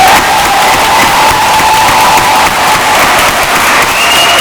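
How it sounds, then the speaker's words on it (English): Audience applause for students at a career and technical recognition ceremony, a dense, steady clapping from a large crowd that holds loud and even throughout. "Can we please have a round of applause for these students?"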